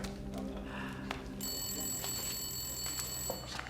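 A telephone rings in a quiet indoor setting, a steady electronic tone starting partway through and holding for a couple of seconds over low background noise.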